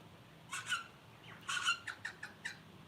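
Mountain birds squawk outdoors in short harsh bursts, a pair of calls followed by a quicker run of four or five squawks, fairly close against a quiet background.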